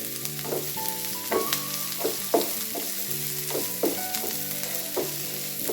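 Onion, green chili and ginger sautéing in ghee for a tomato coconut chutney, a soft crackling sizzle with repeated stirring scrapes and clinks of a spoon against the pan.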